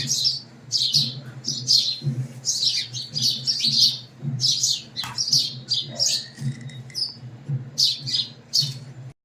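Sparrows chirp in quick repeated bursts of bright, close tweets while coming down to feed, alone over a low background hum.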